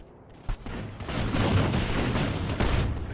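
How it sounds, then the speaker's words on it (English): Gunfire in the sci-fi shooter Planetside 2 rings out loud and close as a sharp report followed by a sustained roaring wash of game combat noise. "I want you to take one shot, aim down sight, and look at your gun."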